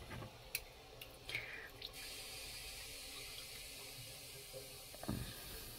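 Running tap water rinses something at a sink, a steady soft flow with a few brief splashes and clinks, fairly faint and without talk.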